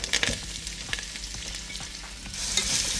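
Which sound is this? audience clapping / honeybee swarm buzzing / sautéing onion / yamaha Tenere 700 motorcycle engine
sautéing onion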